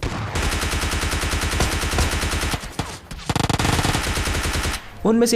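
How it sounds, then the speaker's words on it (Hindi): Rapid automatic gunfire in the PUBG Lite battle royale game rattles in dense, loud bursts, breaks off briefly, resumes, then stops as a short voice sounds at the end. "जिस तरह से गन शॉट की आवाज़ आ रही थी ना"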